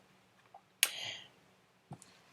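A single sharp sneeze bursts out nearby in a quiet room, followed by a soft breathy trail and a faint click.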